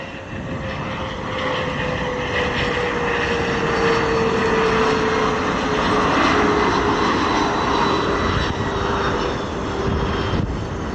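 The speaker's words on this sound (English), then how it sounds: "SkyWest flight 4638, it's the house livery inbound from Birmingham, Alabama." A SkyWest airliner arriving at Chicago O'Hare on its inbound approach: a loud, continuous engine roar and whine that holds steady throughout, with no voices.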